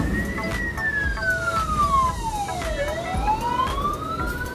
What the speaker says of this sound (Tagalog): Kanina may police, ngayon may ambulansya.